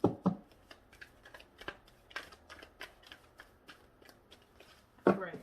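Playing cards being handled and moved on a table, a sequence of soft irregular flicks and snaps, with a louder rustle at the start and another near the end, and some talking.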